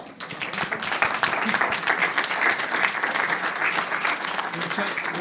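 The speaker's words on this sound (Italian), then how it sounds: "Non c'è bisogno dell'applauso" A theatre audience applauds to welcome a guest onto the stage, lively and dense clapping with distinct sharp claps, holding strong for the full stretch with faint voices mixed in.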